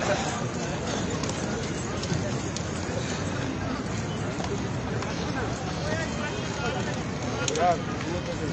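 A horse gallops at a tent pegging competition in Havelian, its hoofbeats buried in a steady wash of crowd noise and a loudspeaker announcer's voice.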